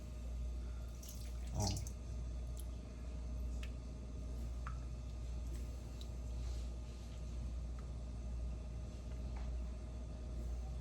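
Faint, steady running water from a tap rinses T-bone steaks in a sink, a soft continuous wash with a low rumble and a few small drips underneath.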